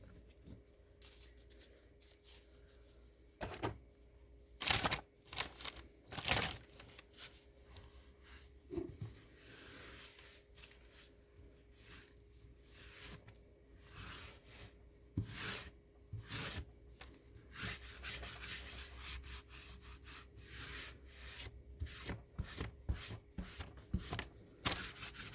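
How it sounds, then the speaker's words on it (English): Dried resin is scraped off a silicone craft mat in a home crafting setting, with irregular rough scratching strokes and a few sharper, louder scrapes, quiet and close with no talking. "stuff that I'm going to have to scrape off of it like I'm doing now"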